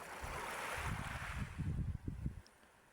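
Sea waves roll in as a broad, soft wash of surf, swelling and then receding over a low rumble that sounds like wind on the microphone.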